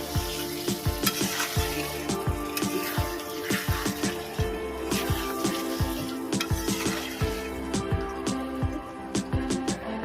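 Chicken sizzles loudly in a wok as a spoon stirs it in quick, repeated scraping strokes, close up.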